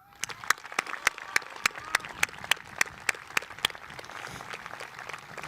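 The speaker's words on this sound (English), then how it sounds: "Let's give them one more round of applause." Applause from the audience at a high school commencement ceremony, a steady wash of many hands clapping with sharp individual claps standing out, moderately loud and continuous throughout.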